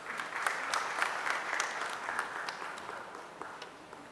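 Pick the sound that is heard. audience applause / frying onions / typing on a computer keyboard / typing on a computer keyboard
audience applause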